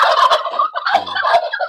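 A turkey gobbles loudly and close by in a farmyard, two quick rattling bursts of warbling calls in under two seconds.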